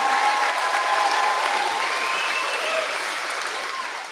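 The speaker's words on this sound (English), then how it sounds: "Can we give these grads a round of applause" A graduation crowd gives the new grads a sustained round of applause, dense steady clapping that fills the room and fades slightly toward the end, with no speech over it.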